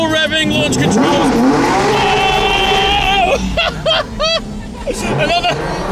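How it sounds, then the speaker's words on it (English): A Ford RS revs hard for a launch control start during the Gumball 3000 rally, engine note rising and sustaining, then sharp bursts of revs amid a noisy crowd with people talking and cheering nearby. "Oh! Another third launch control in the RS."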